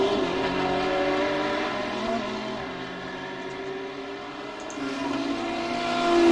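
GT3 race cars at Imola drone past with a steady engine whine that shifts in pitch as they accelerate, heard from a moderate distance and rising again near the end.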